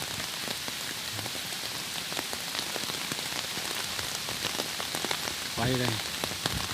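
Heavy typhoon rain pours steadily on a rubber plantation road in Chu Se, a dense hiss of drops drumming on surfaces, with a brief voice speaking near the end.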